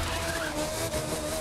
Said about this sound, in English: we're drifting in the F1 car